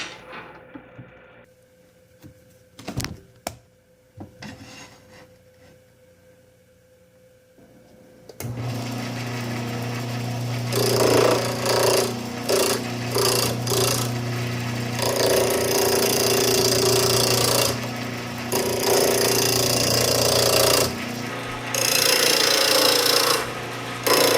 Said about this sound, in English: As I turn this piece down, I will stop periodically to readjust my tool rest.